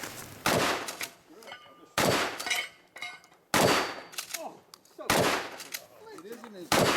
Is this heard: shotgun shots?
yes